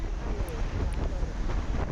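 Steady, loud wind roar buffets a moving motorbike on a ride from Tiruppur toward Palani, a continuous broadband rush with no pauses throughout.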